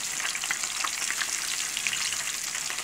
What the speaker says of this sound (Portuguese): Coisa querida, um barulhozinho frito, hein.